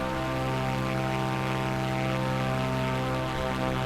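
Propeller aircraft engine in Microsoft Flight Simulator drones steadily and loudly throughout, a constant harmonic hum with no talking.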